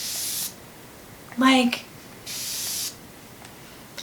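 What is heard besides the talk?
drugstore setting spray mist being sprayed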